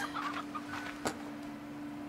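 Hens in the video game Slime Rancher clucking softly in a few short bursts over a steady low hum of game background sound, faint and with no speech.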